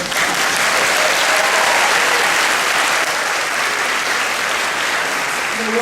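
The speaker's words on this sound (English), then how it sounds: "Feel free to applause for that." Graduation ceremony audience at a School of Science and Engineering breaks into dense, sustained applause, a loud, even wash of clapping that carries on for several seconds and eases slightly toward the end.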